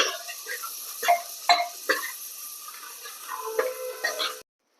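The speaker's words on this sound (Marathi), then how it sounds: "आपण वाटणामध्ये हे मसाले परतून घेतलेले आहे आणि तेल सुद्धा सुटलेलं आहे" Spices and ground masala paste sautéing in oil for a chavli batata bhaji, stirred with a spoon that gives several distinct clinks and scrapes against the pan over a faint sizzle.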